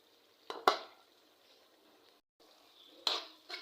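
Garlic hitting hot oil with cooked masala in a pan gives quiet sizzling, with a few sharp clinks and scrapes of a spoon stirring at intervals, close and faint.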